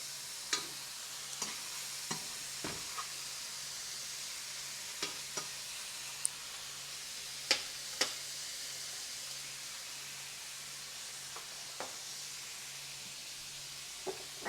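Skin frying in a pan: a steady, faint sizzle with occasional sharp clicks and pops scattered throughout.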